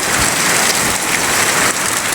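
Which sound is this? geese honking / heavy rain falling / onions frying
heavy rain falling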